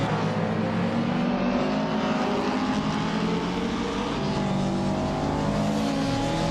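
Racing cars, among them a 1991 Vauxhall Cavalier, roar past as they accelerate, a loud, continuous engine drone with rising and shifting pitch that fills the whole stretch with no voices.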